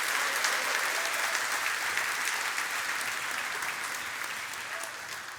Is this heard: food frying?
no